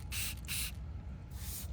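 A spray bottle mists water onto a car headlight before wet sanding, three short hissing bursts, the first two close together and the third after a brief pause, loud and near.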